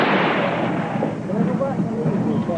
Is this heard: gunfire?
yes